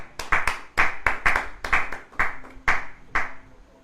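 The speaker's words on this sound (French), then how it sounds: "Acclame très fort pour maman Eugénie" Congregation applauding for maman Eugénie at a church gathering, with loud, uneven bursts of hand claps in a quick irregular rhythm that fade near the end, plus faint cheering.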